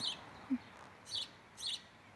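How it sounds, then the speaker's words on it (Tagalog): Birds chirp overhead at a street-side taxi wait in Crans-Montana, Switzerland: three short, high, faint chirps spaced roughly half a second apart over quiet outdoor background. "Ay, may mga ibon sa taas oh."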